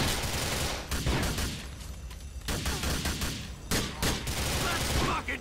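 Rapid bursts of gunfire fill a Grand Theft Auto IV: The Lost and Damned shootout, loud repeated volleys separated by brief pauses.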